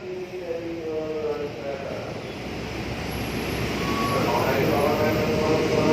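A KRL commuter electric train on a Jakarta–Bekasi line passes close behind people, its rumbling roar swelling steadily louder, with a brief tonal squeal and people talking under the noise.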